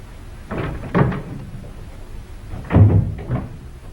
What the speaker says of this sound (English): The door just opened and closed down there.